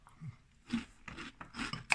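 Crunchy Curiously Cinnamon Churros cereal chewed after soaking in milk, with close, irregular crunching bursts in quick succession and short pauses between bites.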